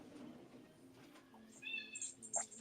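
A house cat meows quietly nearby, a few short rising cries near the end after a stretch of soft room noise.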